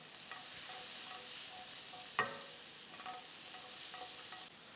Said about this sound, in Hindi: 1 मिनट इनको इस तरीके से सोते करेंगे।